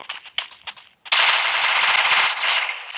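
Gunfire from the video game Free Fire: a few separate shots, then a sustained loud automatic burst lasting about two seconds, close and harsh, with no talking.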